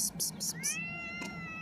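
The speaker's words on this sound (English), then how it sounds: "this is like the neighborhood cat that I feed" A stray neighborhood cat gives one drawn-out meow, close and fairly soft, after a few short clicking taps.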